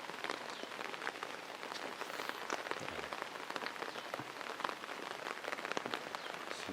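Heavy rain pours onto a village, a dense, steady patter of drops striking roofs and ground with crisp splashes, close and unbroken, with no voices.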